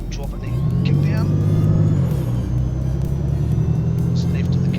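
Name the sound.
bus engine and gearbox in video game OMSI 2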